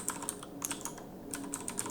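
Rapid keystrokes on a computer keyboard, a quick uneven run of close, crisp clicks with short pauses between bursts, no voices.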